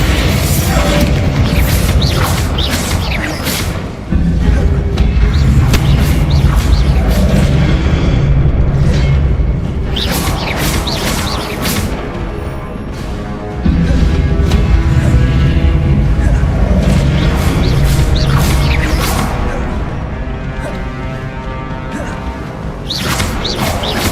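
Magical blast spells like Bombarda go off repeatedly in Hogwarts Legacy combat, heavy booming crashes and thuds packed close together over continuous loud game noise, with brief voice fragments mixed in.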